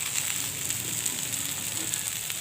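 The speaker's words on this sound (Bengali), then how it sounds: "এবার আমি দিয়ে দেবো পেঁয়াজ। পেঁয়াজটা কিন্তু আগে থেকে ভাজবো" Large-cut onions fry in hot oil for a fish curry with potato, eggplant, pointed gourd and green mango, giving a steady, close, crackling sizzle without pause.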